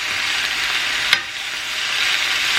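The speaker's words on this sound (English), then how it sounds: "I'm just gonna saute this garlic and" Garlic and spinach sauté in a pan with an even, continuous sizzling hiss; one sharp click of a utensil cuts through partway.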